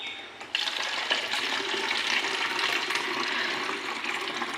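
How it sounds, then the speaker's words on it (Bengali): Water runs steadily from a Kent water purifier in a home kitchen, starting abruptly with a soft click and then a constant, close rushing stream that continues without a break. "এখনো জল নিয়ে নেব কেন্টের থেকে"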